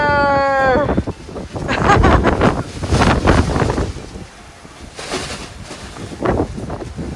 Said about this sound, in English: Ooh, it's so windy.